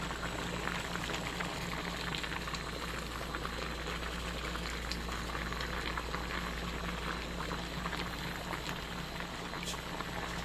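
Jeera bubbles and sizzles in a pan with a steady, soft, crackling boil, close and continuous, with no talk over it.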